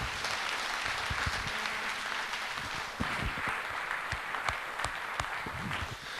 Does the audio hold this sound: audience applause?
yes